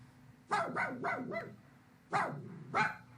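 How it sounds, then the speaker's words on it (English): A dog barks in a story sound effect: a quick run of four sharp barks, a pause, then two more, close and clear over a faint low hum. "An old dog followed him."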